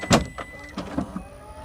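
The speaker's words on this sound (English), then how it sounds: "I can also hold it down again and raise the tailgate" Power tailgate on a 2025 Toyota Tacoma TRD Pro lifting: a short click followed by a few soft mechanical whirs and thunks close by, with no talking.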